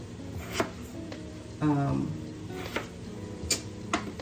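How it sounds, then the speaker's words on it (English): A kitchen knife slicing thinly through a potato, with the skin left on, for a homemade Zuppa Toscana: a few soft, scattered cuts near the board over a quiet room. "And now we're going to start slicing our potato."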